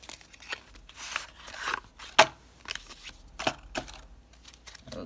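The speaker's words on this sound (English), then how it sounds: "let's shuffle a little bit" A deck of tarot cards is shuffled by hand: quiet, irregular papery riffles and sharp flicks, close by, with one louder snap, in a calm room with no speech.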